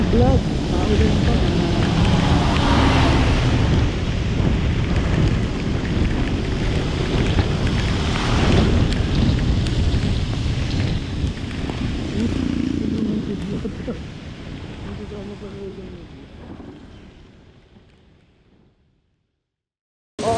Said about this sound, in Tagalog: Napakalakas pa ulan.